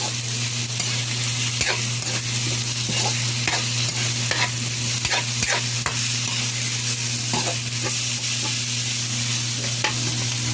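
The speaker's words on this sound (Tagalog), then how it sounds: "Igisa lang natin siya." Tofu and a little meat sautéed in a pan with garlic and onion, giving a loud, continuous sizzle broken by regular scraping stirs of the spatula, with no talking.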